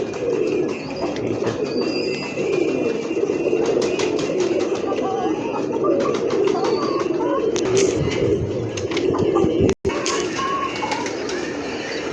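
Pigeons coo continuously in a loft, with low, throaty rolling calls layered over chirps and fluttering, while someone talks intermittently over them.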